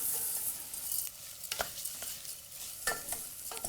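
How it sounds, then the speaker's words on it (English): 225 grams of basmati rice poured into a pan of fried onion, making a soft hiss of sizzling with a few sharp scraping, rattling bursts as the grains land and get moved about, close and fairly quiet. "just tip in, this is 225 grams of rice basmati"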